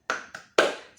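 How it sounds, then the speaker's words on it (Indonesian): Classroom of pupils doing a rhythmic spirit clap before going home: three sharp clapped bursts, the last strongest, with brief decay between them, close and loud, no talking. "Oke, sebelum pulang kita tepuk semangat dulu."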